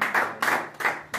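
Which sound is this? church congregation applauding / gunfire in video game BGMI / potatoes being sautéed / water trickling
church congregation applauding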